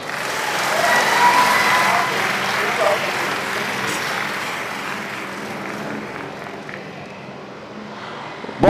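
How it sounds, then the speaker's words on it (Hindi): Audience applause honoring poet Vandana Siddharth at a live Hindi poetry stage event in Delhi, steady dense clapping that swells early then gradually thins and fades over several seconds, with faint voices mixed underneath. "वंदना सिद्धार्थ जी के लिए जोरदार तालियां"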